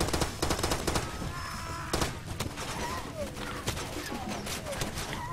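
Bursts of automatic and single-shot gunfire in the shooter game Far Cry 2, sharp rapid cracks clustered early then sparser shots, loud and close, with faint breathing in between.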